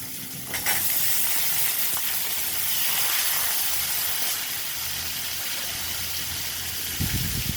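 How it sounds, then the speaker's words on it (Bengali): Small cut potatoes hit hot oil seasoned with panch phoron and dried chilli, giving a loud, continuous hissing sizzle that holds steady, with a brief clatter at the start and a thump near the end. "পাঁচফোড়ন শুকনো লঙ্কা ভাজা হয়ে গেছে। আলু দিয়ে দেবো।"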